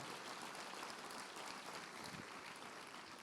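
A church congregation applauding during a sermon, sustained dense clapping heard from a distance at low level, steady for several seconds.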